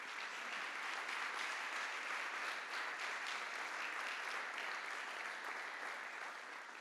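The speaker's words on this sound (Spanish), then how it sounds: "Dele un aplauso al Señor" A church congregation claps together for several seconds, a steady, full roar of many hands at even loudness with no talking over it.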